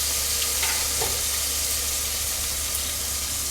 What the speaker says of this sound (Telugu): ఇవన్నీ కూడా మంచిగా ఫ్రై చేసుకోవాలి.